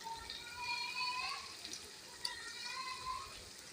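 Garlic frying in hot oil for a tadka in an aloo and baingan curry, a soft steady sizzle with light stirring, fairly quiet throughout with a small clink partway through.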